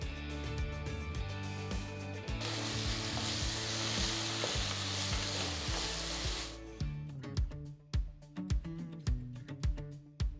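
Tomatoes and coriander powder fry and sizzle in a pan for crab curry, with a loud spoon stirring throughout; sizzling swells thick in the middle, then gives way to sharp, repeated scraping knocks of the utensil near the end.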